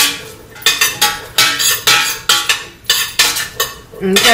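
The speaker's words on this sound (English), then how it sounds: "I'm going to just mix that around in there" Seasoned corn stirred in olive oil in a pot with a utensil: rhythmic scraping clinks repeat about every half second, close and loud, with a faint sizzle underneath.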